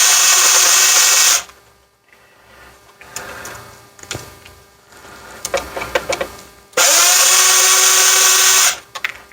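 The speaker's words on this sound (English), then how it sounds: "Got 3 screws on this back board that we're going to take off." Power screwdriver backing three screws out of the circuit board of a 2004-2009 Toyota Prius instrument cluster, two loud sustained whirring bursts at the start and end with quieter clicks and handling noises between.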